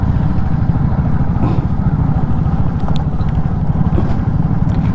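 A motorcycle engine drones loud and steady on an unpaved rural road near Konapura, Hassan, with continuous rumble and road noise throughout.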